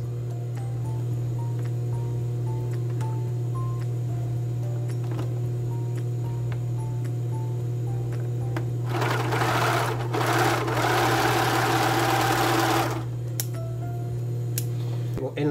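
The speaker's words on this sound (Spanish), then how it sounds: "En la máquina recta voy a coser en la parte del entrepierna" A straight-stitch sewing machine stitches the crotch seam of men's underwear with embroidered lace, a steady low mechanical hum with a louder burst of fast stitching partway through.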